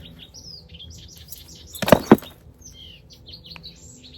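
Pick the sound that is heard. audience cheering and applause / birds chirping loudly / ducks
birds chirping loudly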